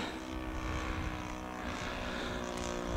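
P-51B Mustang RC model plane powered by a Saito FA 62B glow engine, a steady buzzing drone passing at moderate distance, fairly faint and continuous with no talk.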